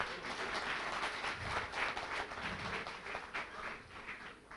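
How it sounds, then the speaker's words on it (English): Audience applause at a valedictory session of an academic conference in India, heard as a soft, steady wash of many hands clapping, fairly distant and even throughout. "A big round of applause."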